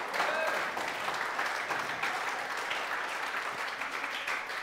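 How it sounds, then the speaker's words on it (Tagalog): A church congregation applauds at a sermon on peace amid trials, a steady dense wash of clapping from a crowded room that holds at an even level for several seconds without a break. "Palakpakan natin ang Panginoon."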